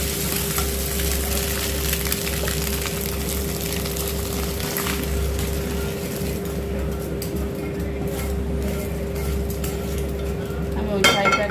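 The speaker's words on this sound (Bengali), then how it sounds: "ডিমটা প্রায় ভাজা হয়ে গেছে" An egg frying in oil in a pan, with a steady, close sizzle and crackle running throughout, joined by a faint constant hum and a few scraping clinks near the end.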